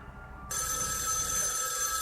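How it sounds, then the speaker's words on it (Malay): An antique telephone on a stair landing starts ringing suddenly after a brief quiet moment, its bright, continuous metallic bell trill sustained loud and close with no voices. "Tiba-tiba, telefon antik yang berada di sudut tangga menuju ke arah dua rumah itu berdering"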